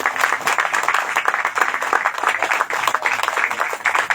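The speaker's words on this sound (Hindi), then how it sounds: "तो आइए किसी से हम ताली बजाते हैं।" Audience at a church service clapping together, a dense, steady patter of many hands filling the room without pause.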